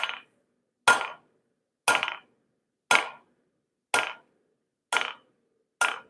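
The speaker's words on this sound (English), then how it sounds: "just letting the hammer do all the work" Seven evenly spaced hammer blows ring out one after another on hot steel being forged into hooks, each a bright metallic strike with a short ringing decay and silence between.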